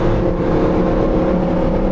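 Lamborghini Huracan STO engine pulling hard under acceleration, a loud steady roar from inside the cabin with no talk over it.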